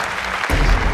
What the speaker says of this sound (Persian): تشویق کنه. تشویق کنه.